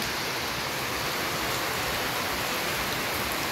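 Steady, dense hiss of heavy rain pouring down without a break, loud and close, with no voices.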